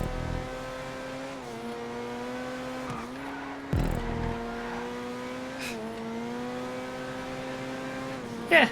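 Race car engine in GTA 5 holding a steady drone on a race track, with brief tire squeals and bumps, a shift in pitch, and a louder hit near the end.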